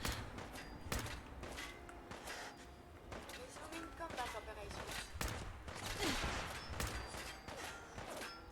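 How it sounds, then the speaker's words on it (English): Gunners firing at the player in Fallout 4: repeated sharp gunshots and bursts of fire, some close and loud, others quieter, spread irregularly across the clip with thuds and movement between them. "Why am I being fired upon by gunners?"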